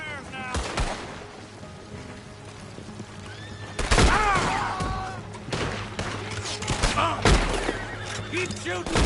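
Gunshots from Red Dead Redemption 2 story mode ring out in sharp separate bangs and a few clustered volleys amid shouting voices and a horse's whinny, with a low steady hum underneath.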